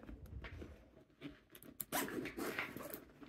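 A zipper on a Michael Kors Slater backpack rasps open in a couple of quick pulls after some faint rustling and handling, close and fairly quiet.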